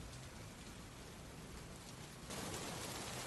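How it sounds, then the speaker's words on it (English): Rain patters steadily outside a window on a grey, misty day, a dense even hiss that swells slightly louder toward the end, with no voices. "That morning, the sound of rain pattering outside the window woke Lily up."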